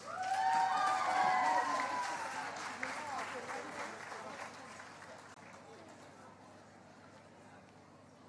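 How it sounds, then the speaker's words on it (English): Audience applause after a choir at a massed outdoor sing-along at the Sunderland Tall Ships, loud clapping and cheers with voices at first, then fading gradually to a thinner, quieter patter. "Ladies and gentlemen, round of applause."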